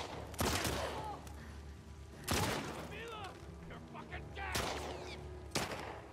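Gunshots in The Last of Us Part II video game: a few loud, sharp blasts spaced a couple of seconds apart, each with a short ringing tail, over a steady background hum.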